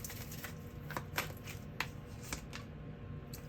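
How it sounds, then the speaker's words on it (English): Tarot cards being shuffled by hand, a close, steady papery riffle with several sharper flicks and snaps standing out over a soft continuous rustle. "let's give it one more shuffle."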